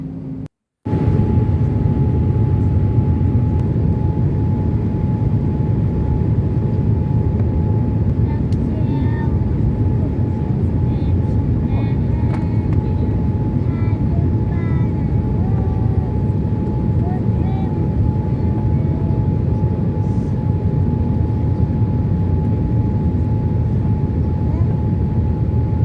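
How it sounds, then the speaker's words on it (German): Steady, loud cabin roar inside a Qatar Airways airliner descending toward Hamburg from Doha, a constant broadband engine and airflow drone with a faint steady tone, lasting throughout with no break. "Wir starten jetzt auch langsam unseren Anflug auf Hamburg."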